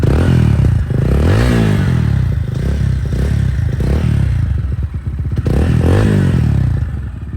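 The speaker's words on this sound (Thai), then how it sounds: "เสียงท่อตัวนี้เสียงนุ่มมากนะครับ" A GPX Raptor180 motorcycle registered in 2020 revs its exhaust in a soft, smooth tone. The engine pitch swells and falls repeatedly over a steady, loud idle, close by with no talking.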